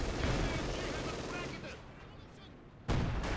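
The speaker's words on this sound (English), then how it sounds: "it's another nice use of the artillery barrage here" Artillery barrage and machine gun fire in the World War II strategy game Company of Heroes 2: continuous rattling bursts and booming impacts, dense and moderately loud, with a fresh heavy blast near the end.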